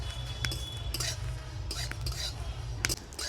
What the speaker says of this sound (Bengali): প্রথমে শুকনো কড়ায় কিছু মশলা ভেজে নেব